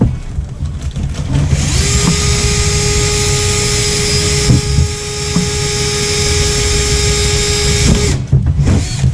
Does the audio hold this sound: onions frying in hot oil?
no